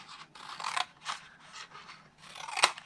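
Scissors snip through paper while a straight line is cut for a Stampin' Up! window box craft project, a run of short, close, quiet crisp cuts with one sharper final snip.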